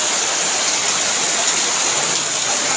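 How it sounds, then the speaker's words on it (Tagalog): Heavy rain pours down outside sleeping quarters in a steady, dense, loud hiss with no breaks. "Lakas ng ulan."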